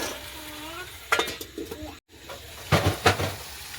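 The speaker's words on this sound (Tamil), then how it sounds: "அப்படியே பிரட்டி விடுவோம் இந்த பாலில் இது அவிஞ்சா நல்ல டேஸ்ட்டாக இருக்கும் பிரட்டி விட்டுட்டு ஒருக்கா மூடி விடுவோம்" Green beans stirred in milk in a cooking pot, then covered with a lid. Close scraping and clinking strokes come in short clusters, with a brief pause before a few louder metallic knocks.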